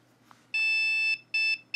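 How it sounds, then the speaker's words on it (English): Server motherboard POST beep code sounding after power-on, with the memory removed: a long electronic beep followed by a shorter beep and the start of another, loud, high-pitched and clear over faint fan hum. "So we have a beep code. So that's one long, two short."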